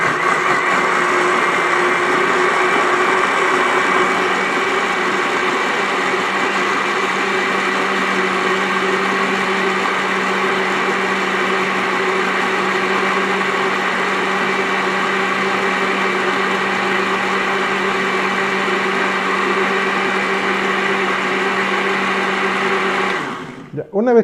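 Electric blender blending passion fruit cocktail ingredients, a steady loud whir running unbroken for about 24 seconds before cutting off abruptly at the end.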